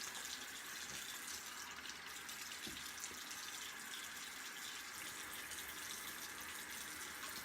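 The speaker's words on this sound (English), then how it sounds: "Alright, warm water rinse." Water runs steadily from a tap, a soft continuous hiss and splash, fairly quiet and uninterrupted.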